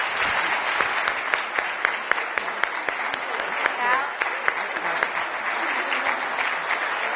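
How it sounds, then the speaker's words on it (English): An audience at a transportation summit gives a panel a warm round of applause, dense continuous clapping with sharp individual claps standing out, steady throughout, with faint voices underneath. "can we all give them a really warm round of applause?"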